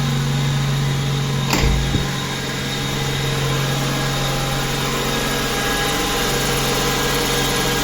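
Car engine idling steadily and evenly after a cold start, with a loud, constant hum heard from close by. Near the start there is a brief thud, and no one speaks.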